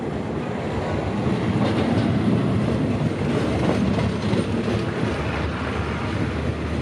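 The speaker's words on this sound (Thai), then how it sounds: "ทางนี้ทำขบวนผ่านไปแล้วครับ พร้อมกับตู้เขียวนะฮะเป็นตู้ใหม่ที่เพิ่งจะ ทำสีออกมาเสร็จนะครับ" A passenger train on the Ubon Ratchathani–Bangkok line rolls past with a newly painted green carriage, its wheels clattering in a steady rumble over the rails, loud and close throughout with no talk.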